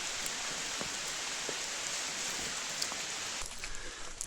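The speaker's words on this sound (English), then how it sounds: "it was just pouring rain" Heavy rain pours down on the foggy Cecil Cove Trail, an even, dense hiss that holds steady with a few scattered drip ticks and no voices.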